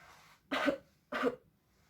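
Two close, muffled coughs into the upper arm, evenly spaced about half a second apart in an otherwise quiet room.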